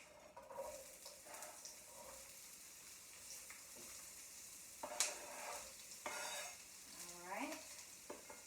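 Potatoes and onions sizzle faintly in a skillet while a utensil stirs and scrapes, giving a few soft clatters and scraping sweeps over a quiet, steady frying hiss.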